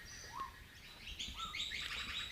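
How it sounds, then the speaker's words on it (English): Several birds call outdoors at a dam campsite, magpie and noisy miner among them, with chirps and warbling phrases overlapping and growing busier toward the end, at moderate distance over a low ambient rumble. "So now the butcher bird's close relative, the magpie, has joined us"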